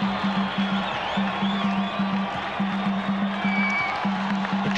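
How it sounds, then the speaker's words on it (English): Dense crowd roar at a Bulawayo cricket ground during a 2003 World Cup match between Zimbabwe and the Netherlands, cheering a wicket, loud and sustained with a steady pulsing drone of horns or chanting beneath. "The crowd are happy."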